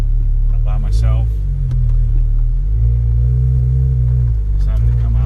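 A 2017 Porsche GT sports car drives alone on a mountain road in the Smokies, its engine a steady loud rumble that rises and falls with shifting revs, close and continuous throughout.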